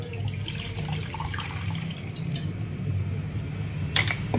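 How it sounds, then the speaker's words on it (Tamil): Water poured into a cooking pot for a fish dish, a steady splashing flow with faint rumble and a few light metallic clinks near the end, no talking. "கொஞ்சமாக தண்ணி ஊற்றி"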